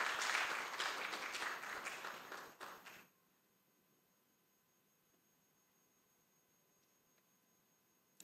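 Audience clapping at an international soil science workshop, steady dense applause for about three seconds that cuts off abruptly into near silence with a faint hum.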